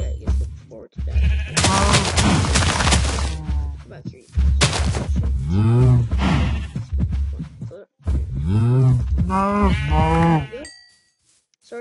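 A cow in the video game Minecraft is attacked and killed, letting out several loud, drawn-out moo-like cries in separate bursts with short pauses between them.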